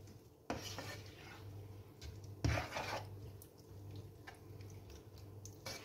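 Cream and mushroom sauce made with chanterelles and hedgehog mushrooms for lasagne is stirred in a pan with a utensil, giving quiet scrapes and a few light clinks against the metal, with faint kitchen background.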